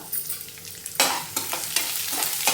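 Urad dal and mustard seeds fry in hot oil as they are stirred, with a steady sizzle that swells suddenly into loud crackling scrapes partway through, close up and with no talking.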